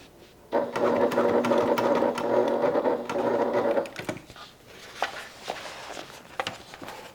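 A sewing machine stitches a Willa crossbody bag in one steady mechanical run of about three seconds, then stops and leaves scattered light clicks and handling taps.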